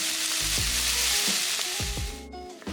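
Potatoes and corn stir-frying in olive oil in a pan over medium heat, a steady loud sizzle with repeated scraping and stirring strokes throughout, no talking.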